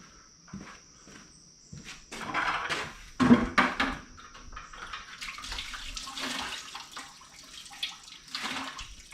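Green antifreeze drains from a car's disconnected lower radiator hose into a bucket, making an irregular close-up splashing and trickling with a brief louder clatter partway through.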